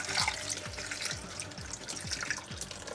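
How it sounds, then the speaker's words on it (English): Water pours steadily into very thick coconut milk for an African dish, a continuous close splashing and trickling stream with soft rhythmic gurgles underneath. "So I'll just add water."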